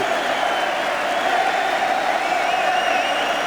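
A stadium crowd at an England v Wales Five Nations rugby union match applauds and cheers the team in a dense, steady roar of clapping with no break.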